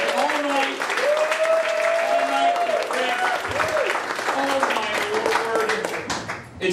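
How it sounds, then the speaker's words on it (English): Comedy club audience claps steadily at the Comedy Studio while someone talks over the applause, the clapping dense and continuous before tapering at the close. "A nice round of applause for Rick."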